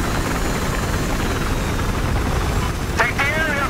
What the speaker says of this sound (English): We got a police chopper coming in.